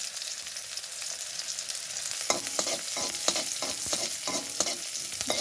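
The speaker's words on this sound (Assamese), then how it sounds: "এইখিনি অলপ ভাজি ল'ব পিয়াজখিনি ব্ৰাউন নোহোৱালৈকে" Sliced onions and green chillies fry in hot oil in a wok, a steady close sizzle running throughout, with a burst of quick spatula scrapes and clatters joining in midway.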